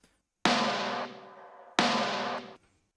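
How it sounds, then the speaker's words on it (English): A processed snare drum layered with a second snare sound strikes twice alone, each hit a sharp, loud crack followed by a long, bright, noisy tail that cuts off abruptly. "I layer in another sound with the initial snare sound to just give it a bit more push towards the end of the song."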